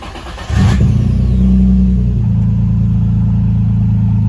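A Nissan 350Z engine cranks and catches after a brief quiet start, revs up loudly, then settles into a steady, close, rumbling idle with no one talking.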